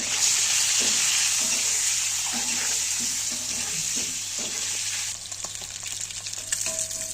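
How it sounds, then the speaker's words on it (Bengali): An egg seasoned with turmeric and salt fries in a pan with a steady, loud sizzle and crackle that softens slightly toward the end, with no voices. "ডিমটা হলুদ আর লবণ দিয়ে আমরা ভেজে নিব।"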